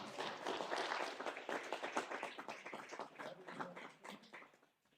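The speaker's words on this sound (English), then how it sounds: "Applause is appropriate." Applause at a city council meeting, a few seconds of moderately faint, dense clapping from a small crowd that tapers off toward the end.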